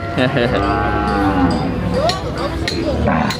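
Cattle at a busy open-air cattle and buffalo market moo loudly and repeatedly, several overlapping calls rising and falling against a constant noisy crowd din.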